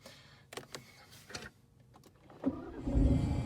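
A 2020 Aston Martin Vantage starts up after a few sharp interior clicks, its engine catching with a loud bark and settling into a deep, rumbling idle close up.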